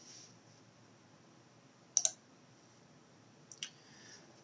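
Two quick pairs of computer mouse clicks, crisp and close, stand apart from near silence.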